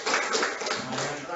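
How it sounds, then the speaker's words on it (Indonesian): Applause from a classroom of students, a dense patter of claps filling the short span steadily, with chatter mixed underneath. "beri tepuk tangan"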